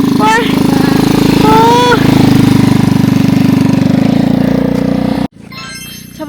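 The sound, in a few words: motorbike riding up a mountain trail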